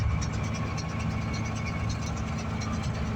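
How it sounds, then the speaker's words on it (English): A Vermeer 605K round baler tying off an alfalfa bale with the tractor running at about 1700 RPM, a steady close engine drone with faint rhythmic mechanical ticking above it. "tying the bale off at approximately 1700 RPM"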